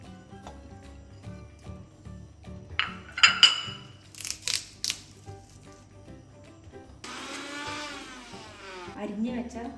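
Coconut, green chilli, shallots and cumin are crushed into avial paste: a few clattering knocks, then a short rising whirr of grinding, over a soft tonal background.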